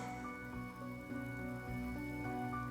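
Steady rain falls in the video game Honkai Star Rail, a continuous wash of drops on surfaces with layered musical tones running beneath it throughout.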